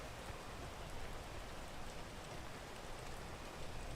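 Steady rain falls in a video game as a dense, even hiss of drops on surfaces, continuous and fairly loud throughout, with no talking.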